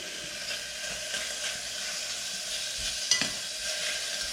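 Bacon fries in a pan for a BBQ rib sauce, giving a steady, close crackling sizzle with a brief louder pop partway through and no talking.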